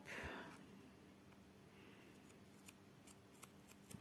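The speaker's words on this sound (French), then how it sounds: "Ça se coupe tout seul, hein, vous voyez, comme dans du beurre, à condition d'avoir une bonne paire de ciseaux" Sharp scissors snip through stiff cross-stitch fabric for a bookmark, a quiet close-up sequence of crisp clicks and short cuts spaced irregularly, with no talking.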